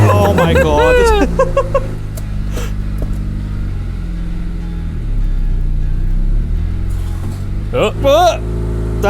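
A Honda Civic engine revving hard on a cold start, loud and close, with a rising rev early on and a second sharp rev near the end over a steady rumbling idle, with people talking in between.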